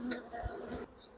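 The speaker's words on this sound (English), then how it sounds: "I'm just going to shake these bees off and show you." Honey bees buzzing as they are shaken off a failed beehive frame, a brief burst of busy droning with a couple of dull knocks, ending abruptly.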